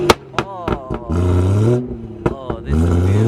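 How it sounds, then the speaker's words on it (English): A BMW 140i engine at a car meet revs in sharp bursts, with quick throttle blips followed by longer rising roars, loud and close, repeating twice. "Let's hear this 140i."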